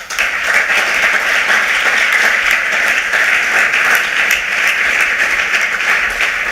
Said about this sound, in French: je voudrais que vous puissiez vraiment applaudir pour eux